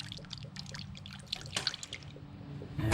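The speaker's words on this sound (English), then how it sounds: "Fill the reservoir with the yellow coolant, which is actually green in color." Yellow coolant trickles and drips into the coolant reservoir of a Ford C-Max, soft close liquid splashes with a fuller pour swelling at the end.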